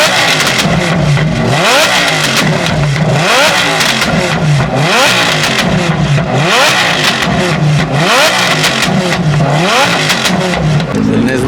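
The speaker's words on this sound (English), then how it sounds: "Josh is gonna rev it now. Lambo at the GTR meet." A Lamborghini engine revs repeatedly at a Nissan GT-R car meet, loud and close, its pitch sweeping up and falling back in a regular cycle of roughly every second and a half while the engine stays running between revs.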